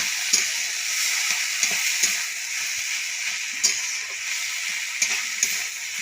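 Food frying in ghee in a pan, a soft continuous sizzle with occasional sharp clicks and scrapes of stirring, moderately close and unaccompanied by talk.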